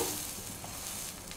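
Leftover rice snack frying in a pan, a steady close sizzle with soft crackles and no talking.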